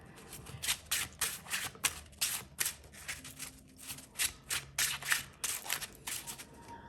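Glossy, shiny Golden Foil Tarot cards are shuffled by hand in a steady series of crisp riffling bursts, each lasting under a second, close and fairly quiet with no talking.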